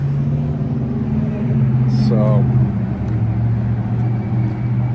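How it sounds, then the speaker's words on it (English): Road traffic passes outside a trucker's spot, a steady low rumble of engines with one vehicle swelling louder midway, while someone briefly speaks over it. "Now we got road traffic, which is probably, you guys probably don't even hear the road traffic."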